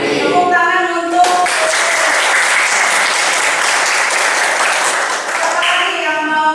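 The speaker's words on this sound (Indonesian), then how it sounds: "Tepuk tangan untuk" Students in a vocational high school class applaud together, a loud, dense burst of clapping that swells in quickly and fades at the end, with a teacher's voice before and after.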